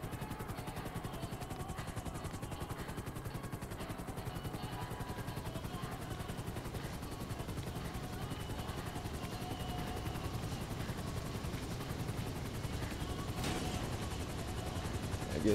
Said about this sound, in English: Can I park my helicopter in here?